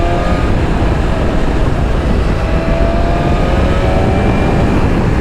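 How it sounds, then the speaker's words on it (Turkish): A 2023 BMW S1000 RR sport motorcycle engine running at quarter throttle, a loud, steady, close drone with rising whine overtones and no talk. "Ya okkalı gidiyor makine. Şu an bak bunlar hep çeyrek gaz."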